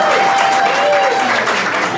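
A comedy club crowd bursts into loud, close, continuous clapping, a dense sustained applause with some cheering voices mixed in.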